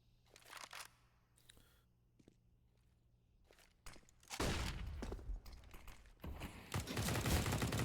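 Gunfire during a Counter-Strike match on the Mirage map. Faint clicks and footsteps come first, then a loud burst of shots with a dense crackling tail, followed by more firing that keeps building toward the end. No talking.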